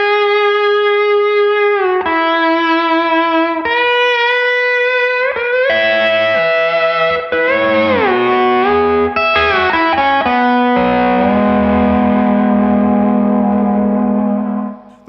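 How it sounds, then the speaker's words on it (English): A pedal steel guitar plays through a Thorpe Peacekeeper overdrive pedal. Loud, sustained, gently driven notes swell and glide between pitches, building to held chords with no talking. "Next up, we have the Overdrive on my board, which is the Thorpe Peacekeeper."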